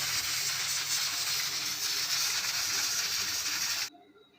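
A pressure cooker holding lentils and water hisses in a steady, moderately loud stream of steam that cuts off abruptly near the end, with no talking.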